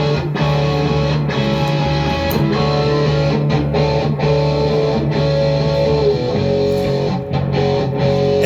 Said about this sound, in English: to play the actual guitar tracks for you